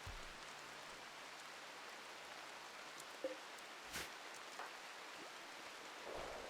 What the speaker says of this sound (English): It's been raining for ages in this game